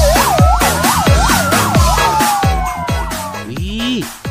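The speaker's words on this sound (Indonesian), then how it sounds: "Ada mobil damkar. Mobil pemadam kebakaran." A toy fire truck siren wails in a rapid, repeating electronic yelp, loud and close, then winds down near the end.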